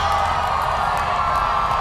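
Student audience at GCU Lahore cheering and whooping to welcome former prime minister Imran Khan, a dense continuous crowd roar with scattered shouts, moderately loud and unbroken throughout.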